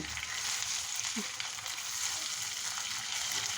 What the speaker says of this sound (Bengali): তেল গরম হয়ে গেছে মাছ দিয়ে দিয়েছি